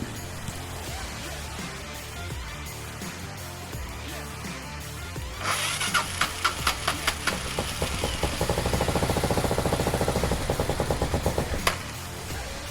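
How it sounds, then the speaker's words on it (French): A Suzuki DR 750 motorcycle with a carburetion fault turns over, catches and idles roughly, with uneven loud chugging pulses and mechanical rattle close by after a quieter lead-in. "Ok, elle démarre, mais il y a clairement un problème de carburation."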